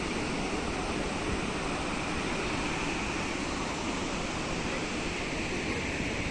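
Water roars steadily from the spillway gates of the Srisailam dam, a dense, continuous rushing torrent that stays loud and unbroken throughout with no voices.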